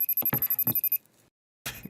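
A phone rings in a fast electronic trill of repeated chirping pulses lasting about a second, followed by a pause and a short burst of noise.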